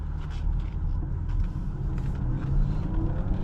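A 2022 BMW X5 xDrive40i M Sport being driven in Sport Plus mode, heard from inside the cabin as a steady, low engine and road rumble with a slight swell, no voices over it.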